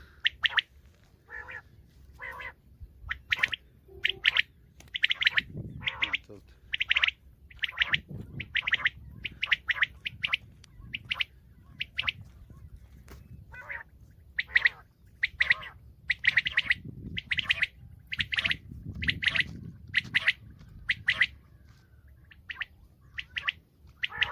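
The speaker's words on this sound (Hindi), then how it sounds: "यही बटेरा है यही बटेरा है" Quail calling during a quail hunt, a rapid series of sharp, repeated chirps and squawky call notes in quick bursts, close and clear over low rustling and handling noise.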